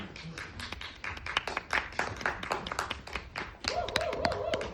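A small crowd at a theatre rehearsal claps steadily, scattered hand claps building into applause, while a voice and a brief tone sound over it.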